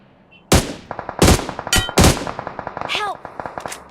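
Loud gunfire in a shooter video game, several heavy booming shots followed by rapid bursts and metallic clinks, close and dominant, with brief voice chatter in between.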